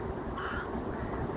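A crow caws once nearby outdoors, a short harsh call rising over a steady background of ambient noise.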